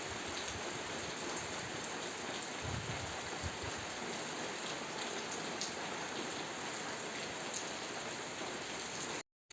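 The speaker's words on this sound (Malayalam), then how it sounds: "ഇതാ കണ്ടോ, ഇങ്ങനെ കുറച്ച് നേരം മഴ പെയ്യും" Monsoon rain falls steadily in the Kerala highlands, a dense even hiss of drops on surfaces with a brief low patter, heard alone without voices until it cuts off at the end.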